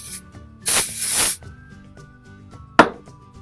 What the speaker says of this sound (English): we're just going to start off by spraying on the roots